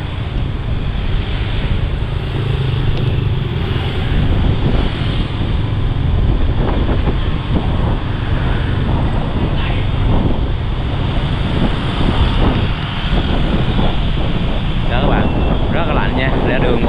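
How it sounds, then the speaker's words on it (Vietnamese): Strong, cold wind gusts along the coast at Quy Nhon, roaring into the microphone with a steady heavy rush. Surf seems to wash beneath it. "gió này bạn gió ghê chưa"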